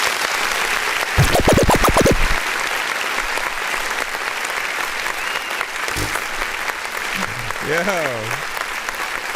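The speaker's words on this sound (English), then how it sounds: "Listen, can we clap for Mylisa real quick?" Clapping rolls on under a music review show host who talks and vocalizes over it, a continuous, fairly close wash of hands holding steady for the length of the clip.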